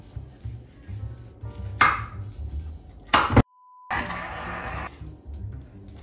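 Chili peppers being chopped with a knife on a board, using a knife that isn't the right one: a few sharp, separate cuts stand out over a quiet, low background.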